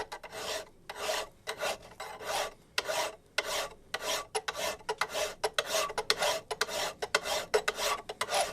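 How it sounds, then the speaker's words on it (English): A carbide burr on a die grinder grinds in a long run of rasping bursts, loud and close, each stroke starting and stopping in a steady, uneven rhythm with no talking. "Carbide burr on a die grinder."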